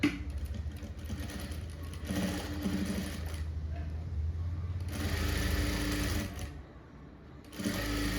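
A sewing machine runs in a tailoring class, stitching a folded hook band for a blouse a quarter inch from the edge, with close, steady motor whirring in long runs that briefly pause and restart.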